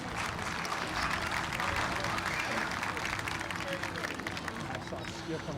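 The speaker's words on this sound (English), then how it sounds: "So give yourselves a round of applause." Audience applause at the Flying Proms, a dense, steady roar of many hands clapping that holds loud and even throughout, with crowd noise mixed in.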